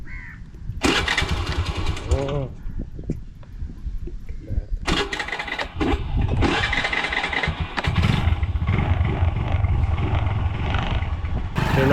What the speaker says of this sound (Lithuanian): Surenku vieną laiką ir iš pirmo karto užkuriu motorolerį.